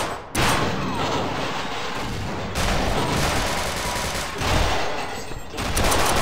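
Sustained automatic fire from a military rifle in the game Half-Life Sven Co-op, loud, dense bursts running almost continuously with brief pauses between volleys.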